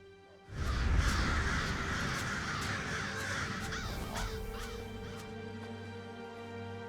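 A flock of crows caws in the Elder Scrolls Online game, harsh repeated calls that burst in suddenly and overlap densely, then thin into separate caws over a steady background drone.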